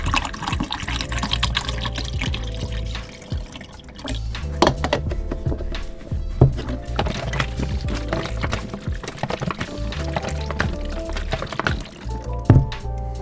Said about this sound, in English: You can go ahead and pour this in and agitate for the first 15 seconds.